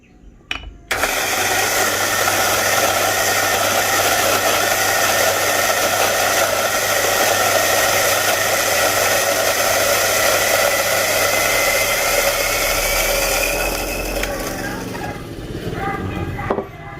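An electric coffee grinder grinds Tuku blend coffee beans in one loud, steady, continuous whir that starts abruptly after a brief click and runs without break, tapering slightly near the end.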